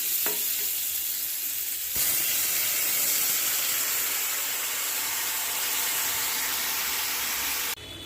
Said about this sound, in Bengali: কষানো হয়ে গেছে, এবার জল দিয়ে দেব।